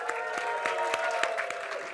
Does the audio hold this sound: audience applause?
yes